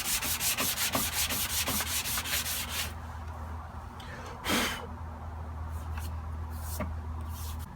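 Rhythmic scratchy rubbing of sandpaper on an old wooden chair, fast regular strokes at first, then slower scattered passes, close up with no talking.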